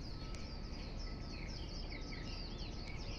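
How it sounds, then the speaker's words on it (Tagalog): Birds chirp and trill in the morning over steady background noise, several short calls scattered throughout, fairly distant. "The bird is singing in the morning."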